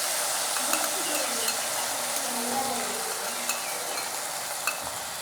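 Onion, garlic and chili paste with ginger paste sizzling in a frying pan, a steady close hiss of frying with a few light stirring clicks, no talking.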